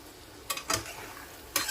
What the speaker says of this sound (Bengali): 1 মিনিটের মতো অনবরত নাড়াচাড়া করব যতক্ষণ না তেল ছেড়ে আসছে।